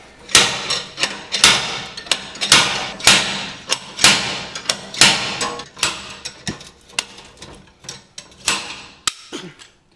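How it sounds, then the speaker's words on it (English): Slide hammer pulling a wheel bearing and hub from a 2013 Audi B8.5 A4 2.0T, a steady series of loud metallic thumps repeating roughly every half second, close up and without speech. "I'm using a slide hammer and see how it comes out"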